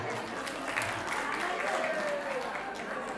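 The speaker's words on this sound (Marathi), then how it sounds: "सोनम मनोज जामसुटकर या दोन्ही दाम्पत्यांना आपण टाळ्या वाजवून त्यांचे जाहीर आभार व्यक्त करायचे." Audience at a public felicitation event clapping together, a steady, moderately loud wash of applause sustained throughout, with a voice speaking over it.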